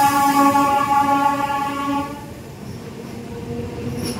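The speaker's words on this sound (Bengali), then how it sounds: "স্টেশন ছেড়েও বেরিয়ে যাচ্ছে" The Padatik Express leaves Sealdah station, its loud horn sounding steadily for about two seconds before fading into a low, close rumble of rolling carriages; no voices.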